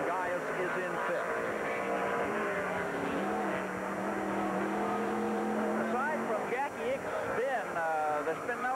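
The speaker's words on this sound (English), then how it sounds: "you're back inside Derek Bell's car." Engine of a 1984 IROC race car driven by Derek Bell on the Cleveland circuit, heard from inside the car as a continuous loud drone with rising and falling revs through gear changes, under a commentator's voice.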